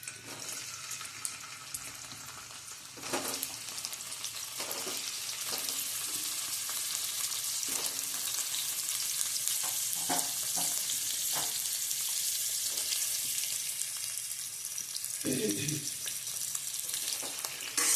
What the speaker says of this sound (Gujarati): આપણું તેલ ગરમ થાય ને એટલે આપણે એમાં થોડા બટેટાને ફ્રાય કરી લેવા છે